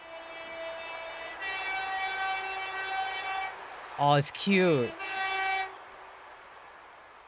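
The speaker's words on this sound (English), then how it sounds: "Gives a distinctive beep beep noise." A European-style train horn sounded in a train simulator video game: a steady two-tone beep held for a few seconds, then a short pause and a second blast, with a brief spoken exclamation cutting in between.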